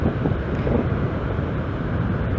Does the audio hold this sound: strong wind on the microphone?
yes